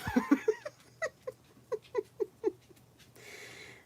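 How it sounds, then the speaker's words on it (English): A disappointed dog whines in a run of short, high, nasal yelps and whimpers close by, about a dozen in uneven rhythm, fading into quiet room noise at the end. "That is the sound of a disappointed dog."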